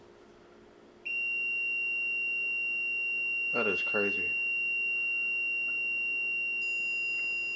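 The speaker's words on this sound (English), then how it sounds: "It's turning on both these alarms." Two household alarms emit sustained electronic tones inside a house, one starting abruptly and holding steady, a second tone joining later, while a man briefly exclaims over them.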